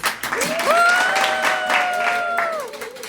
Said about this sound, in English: how about we give every one of our program staff a round of applause